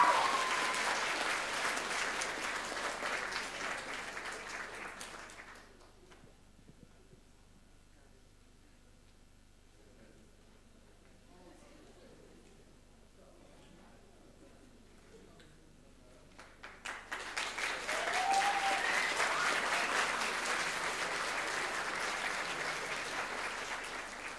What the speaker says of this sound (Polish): Brawa, naprawdę zasłużone.